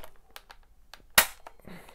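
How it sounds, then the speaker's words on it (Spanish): A single sharp knock pops a Paradox wireless alarm keypad off its wall mount, one loud crack standing out among faint light clicks and taps of handling. "hay que dar un golpe seco de abajo para arriba para que esto salte"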